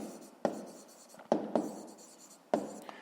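Pen writing by hand on paper during a maths exercise, with several distinct taps and scratchy strokes spaced about a second apart, close and fairly quiet, no voices.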